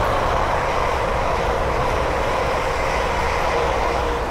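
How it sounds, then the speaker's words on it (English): A pair of London Northwestern Railway Class 350 electric units rushes past on the West Coast Main Line at Linslade, giving a steady, loud, broadband roar that holds for the whole stretch with no voices. "the next train to pass by is a pair of London to Western Railway Class 350"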